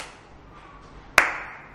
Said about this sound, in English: We clap in front of the camera.